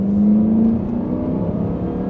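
A Volvo S80 with a V8 engine accelerating on a country road, a loud, close, steady engine drone with a strong low hum that eases slightly after the first second, with no talking.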